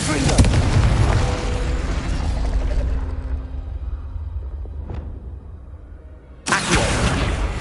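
Confringo spell explosion in the Hogwarts Legacy video game: a loud, close blast with a deep boom that fades over a few seconds, then another burst strikes abruptly near the end.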